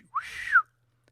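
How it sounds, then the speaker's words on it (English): A man gives one short whistle to call his dog, sliding up and then down in pitch and lasting about half a second, followed by quiet. ""Here, boy," he whistled."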